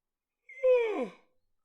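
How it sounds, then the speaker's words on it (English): A single close human yawn, a voiced breath that swells and slides downward in pitch for about a second, heard alone in otherwise quiet surroundings. "I had a yawn there"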